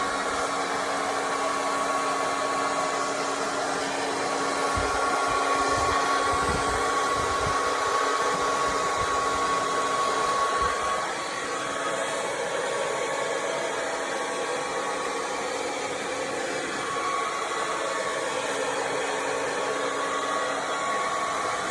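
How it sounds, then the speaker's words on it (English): A heat gun on high blows hot air across shrink wrap plastic, giving a loud, steady, close whoosh with a faint whine that runs unbroken for over twenty seconds. "you can see that it's blowing the plastic, but at the same time the heat is shrinking the plastic."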